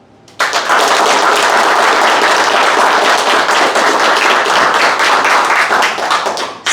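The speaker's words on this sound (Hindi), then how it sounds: "अपनी तालियों में बताए जरा।" Loud, dense clapping from an audience at a summer internship orientation session, starting abruptly and holding at full strength for several seconds with no talking over it.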